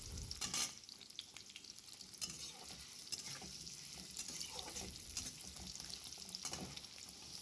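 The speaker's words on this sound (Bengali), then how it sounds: "আমি বেশি ভাজি না, আলু সিম্পল অল্প ভেজেই দিয়ে দেবো।" Potatoes frying lightly in a pan, a quiet continuous sizzle with intermittent stirring scrapes, close but soft and alone.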